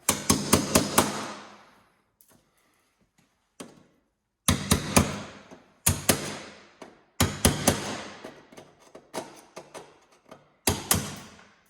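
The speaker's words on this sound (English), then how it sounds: "Hammer time." Bursts of sharp hammer blows on a 2019 Ski-Doo snowmobile, three to five quick strikes per group, separated by short quiet pauses, loud and close.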